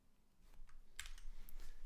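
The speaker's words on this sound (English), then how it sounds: "Can I make the keyboard louder?" A few quick keystrokes on a computer keyboard, close and soft, in a short burst of clicks over faint background noise.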